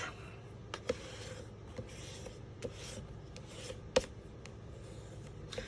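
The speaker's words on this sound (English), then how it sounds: "you're going to turn your card over and" A scored paper card base is burnished flat by hand, making soft continuous rubbing and rasping with a few small taps and clicks, close and fairly quiet.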